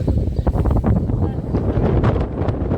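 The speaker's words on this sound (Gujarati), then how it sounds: "એટલું બધું પવન આવે છે" Strong wind buffets the microphone in loud, rumbling gusts, with a voice faintly mixed in.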